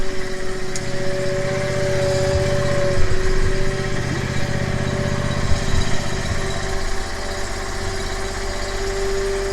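A firewood processor machine switched on and running: a steady loud engine drone with a constant hum and mechanical vibration, close by and continuous with no talking.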